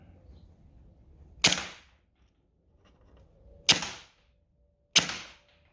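An upgraded airsoft gun firing in three-round burst mode at about 40 rounds per second, three sharp snappy bursts a couple of seconds apart, close and crisp against a quiet background.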